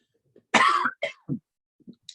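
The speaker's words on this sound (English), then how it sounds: "I've got some kind of cough for some reason." A few short, dry coughs close by, one sharper burst followed by two smaller ones, then quiet.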